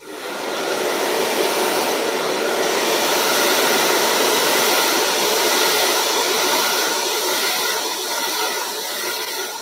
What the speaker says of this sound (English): you want to come in very, very quickly with a hairdryer